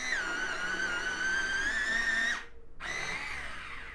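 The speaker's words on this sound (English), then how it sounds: "Okay, I'm going to sharpen that actually," A pencil grinds in a sharpener as a drawing is worked on, making a steady close whining rasp with a high pitch for a couple of seconds, a brief pause, then another burst of grinding.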